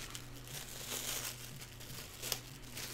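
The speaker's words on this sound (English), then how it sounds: "I'm going to crumple it up." Saran wrap is crumpled up by hand for a watercolor texture technique, a steady close crinkling and crackling that runs throughout with no talk.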